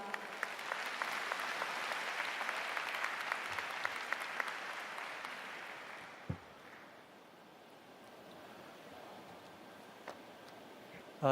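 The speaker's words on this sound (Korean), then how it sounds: "주경철 명예교수님을 따뜻한 박수로 모시겠습니다" Warm applause in a university graduation ceremony hall welcoming an emeritus professor to the podium, a dense clapping wash that thins out after about six seconds into quiet room tone with a few stray sounds.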